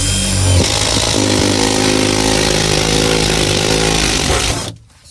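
Power drill with a step drill bit cutting a hole, a loud continuous whining grind close by that runs for several seconds and then stops abruptly, leaving near silence.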